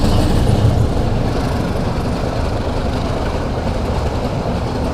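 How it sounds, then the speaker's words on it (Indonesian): A train rumbling past close by at Prambanan, Indonesia, heavy low roar with rhythmic clattering of wheels on the rails, loud and continuous. "Oke, kereta lewat."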